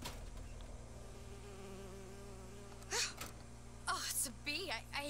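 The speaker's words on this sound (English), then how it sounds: "Oh, it's a bee. I hate these things." Buzzing bee in the video game BioShock Infinite, a steady insect drone under game ambience, with a man's gasps and vocal sounds breaking in near the end.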